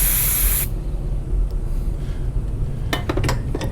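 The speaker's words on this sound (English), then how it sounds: "clean it off real good with some contact cleaner" Contact cleaner sprayed onto engine parts of a John Deere 2653A mower, a loud, close aerosol hiss lasting under a second, then quiet handling with a few light clinks.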